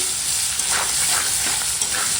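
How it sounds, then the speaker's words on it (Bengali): Steady hissing sizzle of hog plum frying in oil with mustard seeds, dry red chilli, turmeric and salt, with soft stirring bursts recurring over the short span. "আমড়াটা একটু ভেজে নেবো ফোড়নের সঙ্গে"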